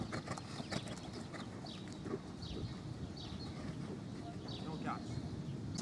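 Horse hooves thudding in a riding lesson over jumps, a loose repeated clip-clop under wind noise with a faint voice in the background.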